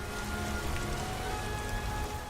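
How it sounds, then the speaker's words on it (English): Steady rain falls in Skyrim, a dense, even hiss of drops on the ground that holds at a constant level throughout, with no voices over it. "I think this rain is warranted."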